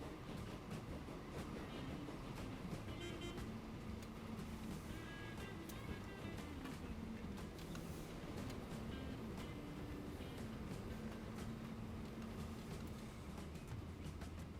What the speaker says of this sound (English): so we'll reverse this train.